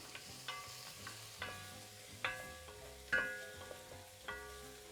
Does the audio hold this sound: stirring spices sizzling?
yes